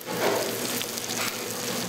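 Steady crackling sizzle of meat frying in a hot pan, close and continuous with no talking.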